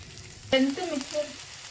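Ingredients for an egg chicken curry hit hot oil in a pan with a short sizzle and a scrape of stirring, quiet and close, lasting only a second or so.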